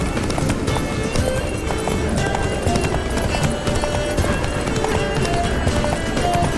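Rapid, rhythmic hoofbeats of a galloping horse in The Witcher 3: Blood and Wine drive on continuously, loud and close, layered with background music.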